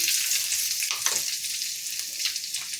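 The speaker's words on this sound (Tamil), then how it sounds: "நான் கடாயில் எண்ணெய் ஊற்றி வச்சுருக்கேன் இப்போ பார்த்திங்கன்னா கொஞ்சம் கடுகு கொஞ்சம் ஜீரகம் போட்டுக்கலாம்" Mustard and cumin seeds crackle and pop in hot oil in a kadai, a dense continuous sizzle with scattered sharper spatters, close and fairly loud.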